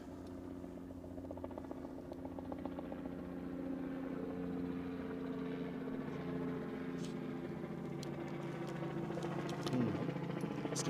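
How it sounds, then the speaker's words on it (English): A helicopter flies near Newcastle Airport with a low, steady, droning rotor and engine hum. The sound is faint and distant and holds constant throughout. "That sounds like the same chopper."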